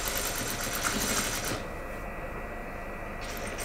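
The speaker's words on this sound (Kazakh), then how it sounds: "Мойын мен қолтығындағы тігісін тегістеп тігіп аламыз." Sewing machine stitching neck and armhole seams on a garment, a fast continuous mechanical whir that drops in intensity partway through and keeps running softer to the end.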